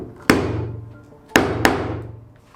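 Wood carved with a curved gouge chisel, heard as three sharp, close knocks, with the last two in quick succession, each ringing briefly before fading.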